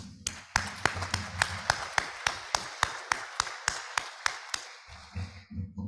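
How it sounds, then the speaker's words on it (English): At a hybrid Rotary Club meeting, a few people clap in a sparse, steady rhythm of distinct sharp claps, roughly three per second, nearby and moderately loud, fading out as a voice begins speaking at the end. "So please give Kevin a round of applause."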